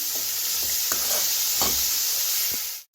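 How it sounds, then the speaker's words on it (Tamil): Bitter gourd sautés in hot oil in a pan for a Tamil-style thokku. A steady, close sizzle runs throughout, broken by a few soft stirring knocks, and stops abruptly at the end. "இப்போ எண்ணெயிலேயே பாவக்காய் நல்லா வதங்கிடுச்சு."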